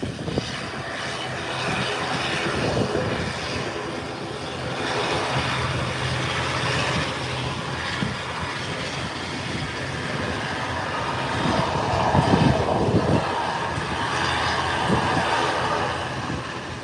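An Inter-Caribbean ATR 72 turboprop airliner taxis toward the runway threshold, its propeller engines giving a steady, loud droning whine that swells slightly as it moves. No one speaks.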